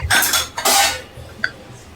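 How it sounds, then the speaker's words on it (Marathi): A metal spatula scrapes and clinks against a wok in quick strokes, dry roasting raw niger seeds; close, fairly loud, with no talking. "कढईमध्ये याला पण व्यवस्थित असं भाजून घेते"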